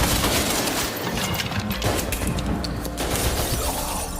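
Dense, continuous gunfire from a war film battle scene: overlapping rifle shots and bursts fill the whole stretch at a steady loud level, with no speech.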